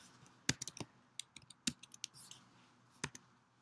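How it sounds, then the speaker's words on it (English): Someone types on a computer keyboard at close range in irregular bursts of sharp key clicks, some strokes louder than others, separated by short pauses in a quiet room. "So I'm typing out all the text."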